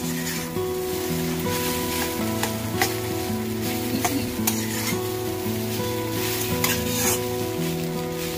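Idli pieces tossed with onions frying for idli upma, a bright, steady sizzle under a faint hum, punctuated by sharp spatula clicks against the pan; no one talks.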